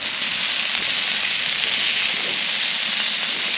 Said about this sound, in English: We'll take and drizzle some of that on top of our fish.